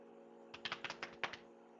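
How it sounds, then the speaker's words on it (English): Hands slapping knees right beside the microphone, a quick run of sharp, dry taps in two short bursts that sound much like loud keyboard typing, with no talking. "I was literally slapping my knees."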